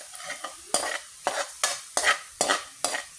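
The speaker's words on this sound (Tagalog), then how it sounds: "ginigisa ang sibuyas at bawang." Onion and garlic being sautéed for fried rice, with a spatula scraping the pan in regular strokes, about seven sharp rhythmic scrapes over a soft background sizzle, close and clear with no talking.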